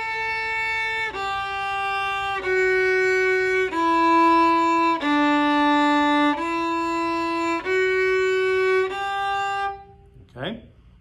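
A violin bows a major tetrachord finger pattern exercise as a sequence of sustained single notes stepping up and back down, each held about a second, played alone, ending with a brief sliding sound.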